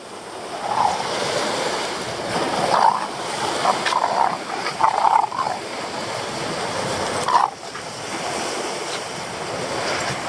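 Rough sea waves wash and break steadily along the shore, a continuous near roar with a few louder surges, without talk.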